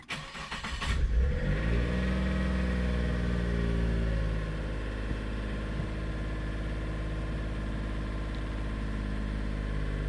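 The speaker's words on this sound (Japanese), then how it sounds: "まずエンジンをかけます。" A car engine cranks briefly and catches, revs up with a rising whine, then settles over several seconds into a steady, close idle that continues to the end.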